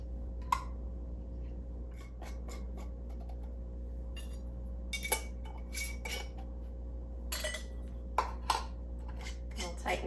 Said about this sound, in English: Set these lids right on.